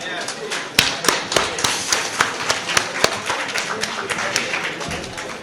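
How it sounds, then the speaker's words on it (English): Guests at a company friends' golden jubilee celebration clap, sharp distinct claps ringing out unevenly at first and settling into a looser patter, close and fairly loud. "Let us give a loud applause for it."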